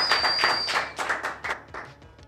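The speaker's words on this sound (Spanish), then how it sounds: "Un aplauso a todos, por favor," Audience applause at the end of a live radio show, a short burst of clapping from a small crowd that thins out after about two seconds.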